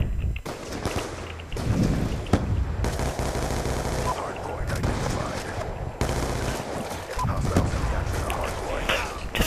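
Video game gunfire from Black Ops 2 multiplayer, repeated sharp shots and automatic bursts crackling in uneven clusters throughout, loud and close, with a voice occasionally talking over the action.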